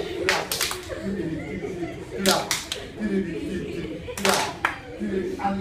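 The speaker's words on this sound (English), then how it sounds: "Clap." Hands clap in a steady counted rhythm during a Ugandan dance routine, sharp bursts landing in small groups about every two seconds over a constant murmur of voices and music.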